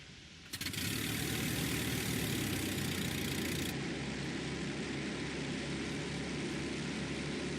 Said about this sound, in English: Time to get this baby airborne. Set your throttle to maximum.